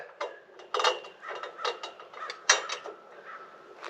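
A toy truck crane boom clicks as it slides in by a notch, giving a quick series of small plastic ratcheting clicks and taps, close and fairly quiet.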